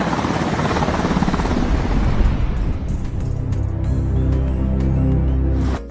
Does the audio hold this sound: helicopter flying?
yes